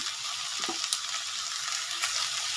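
Onion stalks fry in a pan with a continuous soft hiss and crackle, with a few small clinks and stirring knocks, close and steady without voices.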